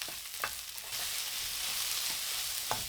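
Chopped garlic and onions stir-fry in hot vegetable oil in a pan for Cantonese soy sauce chow mein, giving a bright, steady sizzle with a few quick scraping stirs, close and without voices.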